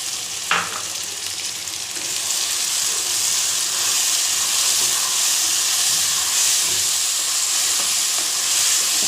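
Tomato paste sizzles and fries steadily in hot oil with bitter gourd and meat, a continuous close hiss that holds level throughout, with a brief clink near the start and no talking.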